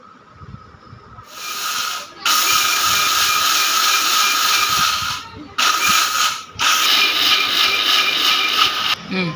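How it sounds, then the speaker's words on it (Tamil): A mixer grinder whirs loudly in bursts, starting and stopping several times with a harsh grinding hiss as roasted rice is milled. "இதை நம்ம வந்து மிக்ஸி ஜாரில் அரைக்க போகிறோம்"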